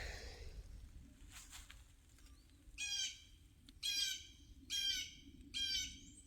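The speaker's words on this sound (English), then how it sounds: "Y'all hear that bird?" A bird along the Appalachian Trail gives four loud, harsh squawking calls at roughly one-second intervals, fairly close, over a quiet outdoor background with faint wind.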